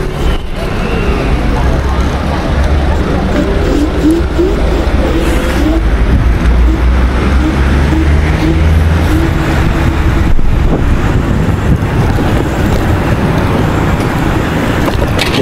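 Dualtron Victor Luxury electric scooter accelerating on an open road, a steady loud rush of wind and road noise with a faint motor whine running through the whole stretch, no speech.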